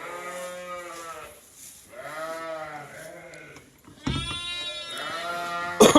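Sheep on a farm field bleating repeatedly, several drawn-out, wavering calls close by, with a few quiet gaps between them and a short noisy bump near the end.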